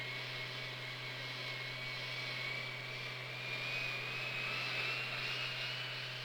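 A steady, faint aircraft engine drone in flight on a weather reconnaissance sampling mission, a continuous low hum under a slowly rising whine, with no talk.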